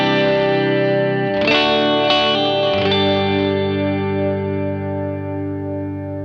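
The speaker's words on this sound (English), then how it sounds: "This is an MJT thin line style Telecaster style guitar" Distorted chords from a Telecaster-style thinline electric guitar through a MESA CabClone closed-back cabinet simulator, strummed a few times then left to sustain and decay, with a thick, slightly chorused, boxy amp tone.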